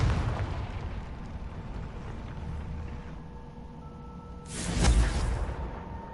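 A Confringo blasting spell bursts in Hogwarts Legacy: a single loud, broad explosive boom near the end, rising above a steady rumbling game ambience with a low hum.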